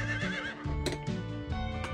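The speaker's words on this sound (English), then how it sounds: "Horse noises." A horse whinnies loudly and close, with a wavering neigh followed by snorting and hoof clops in a game soundtrack.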